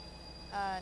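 A train in the video game Stormworks rumbles nearby, a low steady drone that swells briefly with a thin metallic wheel squeal before easing back.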